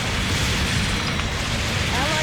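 A mobile suit blows up in a giant-robot battle game, a dense roaring blast with crackling debris that fills the whole moment, loud and close, with faint game chatter mixed in.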